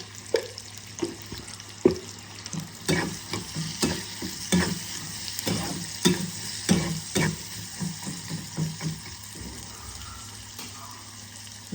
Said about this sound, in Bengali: ভালো করে ভেজে নেব। অল্প হলুদ গুঁড়ো দিয়ে দিলাম।